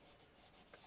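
Colored pencil rubbing across paper while shading a wolf's fur: soft, faint scratchy strokes in a few short bursts, close up and with no voices.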